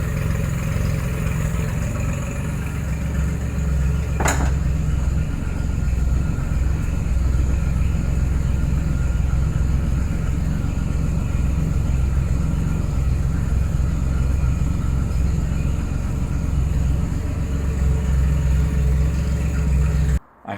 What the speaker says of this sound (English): I had to turn the engine off because it was quite loud